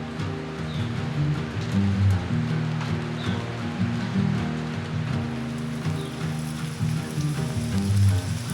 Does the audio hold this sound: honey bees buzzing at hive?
no